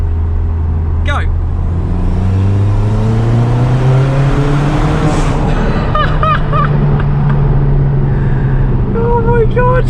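A Ford Fiesta ST200 pulls hard in third gear through a bridge tunnel, its engine note rising steadily and loudly from inside the cabin, with a voice heard briefly over the rising drone.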